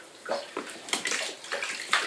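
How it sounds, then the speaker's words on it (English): Water sloshes and splashes in bursts as a ferret is bathed, close and uneven, several short splashy surges without speech. "you went and stuck your head in the water"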